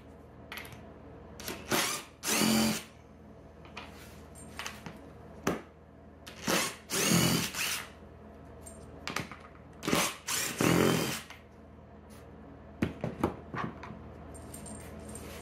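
Power drill driving out screws from the seat hinges of a Club Car Precedent golf cart, heard as repeated short whirring bursts of a few seconds each, separated by quiet pauses and handling noises, fairly close.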